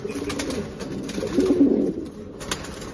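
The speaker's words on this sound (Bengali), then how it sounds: "কবুতরগুলো মাশাআল্লাহ খুবই সুন্দর কোয়ালিটি।" Racing pigeons, a blue checker pair, coo in low, soft, rolling calls, with one fuller coo in the middle, close by over a faint steady background.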